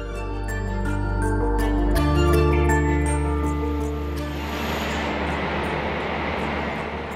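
A train rumbles loudly overhead on the London South Western Railway line, heard from an abandoned railway tunnel below, a heavy continuous roar with rhythmic clacks that swells and then shifts into a broad rushing wash as it passes.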